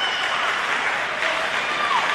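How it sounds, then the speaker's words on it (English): Crowd cheering and clapping at a junior wushu championship, a continuous wash of applause and voices heard from a distance throughout. "can just hear her team cheering her on"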